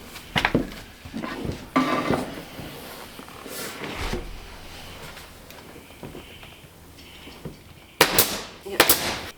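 A pneumatic nail gun driving polymer Raptor nails into a boat's cockpit deck: several sharp, separate pops spaced irregularly, with a quick pair of shots near the end, amid quiet workshop noise.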